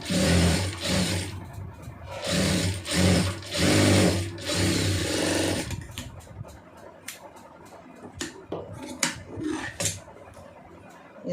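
A sewing machine stitches a fabric piece while piping or hook-and-eye tape is sewn, running in several rhythmic bursts up close, then giving way to quieter scattered clicks and handling noises.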